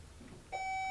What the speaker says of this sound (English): let's see if our buzzers are working